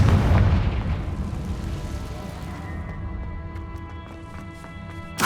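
A Confringo spell blast in Hogwarts Legacy erupts as a loud booming explosion, then decays into a ringing magical shimmer with faint crackling pops and a fresh burst at the end.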